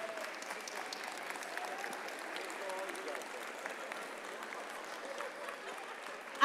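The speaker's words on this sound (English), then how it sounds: "let's give our students a round of applause." A school audience at Chapin High School applauds its students with continuous, moderately distant clapping, with a few voices mixed into the crowd noise.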